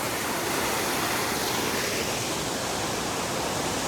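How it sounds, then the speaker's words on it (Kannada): Waterfall in a forest near Karkala, a dense steady rush of falling water, loud and close, continuous without any break and with no voices. "ನಮ್ದು ಫಾಲ್ಸ್ ನೋಡಿ ಗಾಯ್ಸ್"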